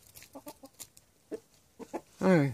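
A chicken on a small farm with ducks clucks in short, close, quick bursts, ending in a louder drawn-out squawk.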